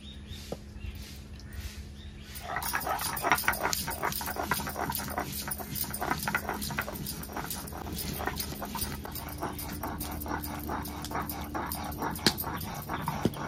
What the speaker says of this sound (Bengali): এরপরে শুকনো লঙ্কাটা বেটে নেব